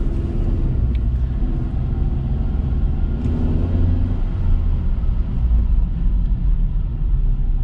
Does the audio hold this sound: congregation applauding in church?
no